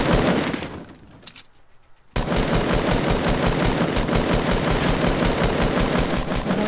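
Sustained automatic gunfire in a video game bursts in loudly after a brief lull near the start, then rattles on densely and continuously, with a few scattered shots before the break.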